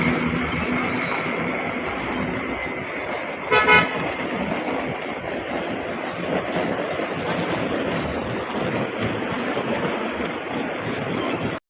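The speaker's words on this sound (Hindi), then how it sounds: "रमज़ान में ट्रैफिक बहुत होती" Dense, steady traffic noise near the Haram in Mecca during Ramadan, a continuous close roar of engines with one brief horn toot rising above it, no talking.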